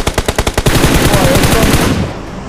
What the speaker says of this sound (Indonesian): Orang tembak.